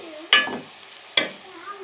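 A spoon scrapes twice through fenugreek leaves and potatoes in a pan for aloo methi, two short close stirring strokes over a faint background hum.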